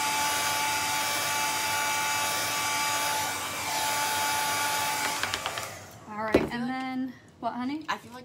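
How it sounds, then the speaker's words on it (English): A hair dryer blows with a steady high-pitched whir over a cake, then shuts off as voices begin talking. "I'm gonna throw the dryer on this real quick"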